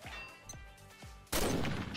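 Gunfire in the online shooter Combat Arms: a few spaced, punchy shots followed by a loud sustained burst of rapid fire, close and dominant with no talk.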